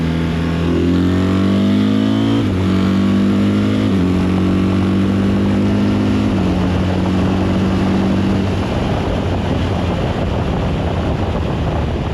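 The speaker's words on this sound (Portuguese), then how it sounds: "Pensei que não ia gostar muito do barulho da moto, mas o barulho é espetacular" A loud BMW R1300 RT touring motorcycle engine drops through several gears from fifth to third, its pitch stepping down in stages before settling into a rough rumble, with wind buffeting throughout.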